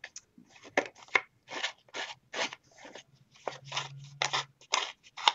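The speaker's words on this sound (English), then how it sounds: "we're just taking our scissors and we're distressing our little calling cards that came in your kit." Scissors scrape and snip along the edges of paper calling cards, a series of short crisp cuts and rasping crunches in an uneven rhythm, heard up close with brief pauses between strokes.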